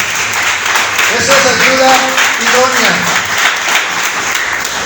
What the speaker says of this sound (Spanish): ¿Cuánto le damos un aplauso al Señor?